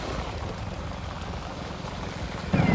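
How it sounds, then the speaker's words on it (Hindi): Water is sprayed onto a dusty, unpaved highway stretch, producing a continuous even hiss like steady rain, with a slightly louder burst near the end and no voices. "ज़्यादा पानी के छिड़काव कर रहे हैं।"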